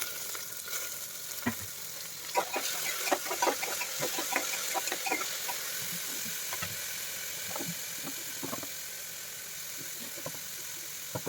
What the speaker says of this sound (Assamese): নেক্সট কাটি থোৱা গাজৰখিনিও মই ইয়াতে ধুনিয়াকৈ একেলগত পেলাই মিক্স কৰি অলপ সময় ভাজি লম